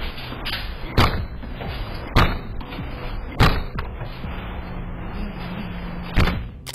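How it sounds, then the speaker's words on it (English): Four heavy, booming thuds spaced a second or so apart as a front door is kicked hard, over a low steady background hum. "kicking the front door with considerable force"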